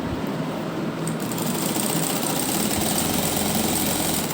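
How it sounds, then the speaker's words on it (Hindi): Sewing machine stitching pintucks into folded fabric for a neckline design, a steady loud continuous whirring hum throughout with no talk. "उसके बाद दूसरा फोल्ड देते हुए हम इस पर इस तरह से सिलाई लगा देंगे"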